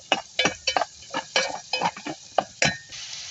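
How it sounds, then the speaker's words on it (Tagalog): Garlic sautéed in a pan for pinakbet, heard as close, repeated clinks and scrapes of a utensil against the pan with faint sizzling between the strokes. "buyos bawang pa lang ginigisa"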